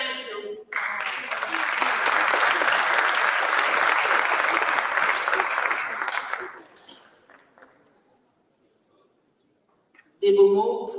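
An audience applauds steadily after a poem is recited at a tech summit in Cameroon, the dense clapping running for about six seconds before fading to near silence, followed by a brief burst of voices at the end.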